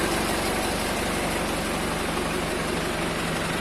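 A Tümosan 8195 tractor diesel engine idles steadily after warming up, following three months without running, producing a continuous low, throbbing rumble with even pulsing close by and no talk.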